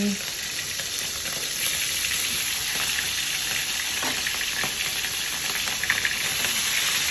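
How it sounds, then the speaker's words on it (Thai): Naem, Thai fermented pork sausage, sizzles hard in a hot pan, a steady close hiss with small pops and a few soft knocks from turning it. "ทอดไข่เสร็จ ทอดแหนมต่อเลยครับ"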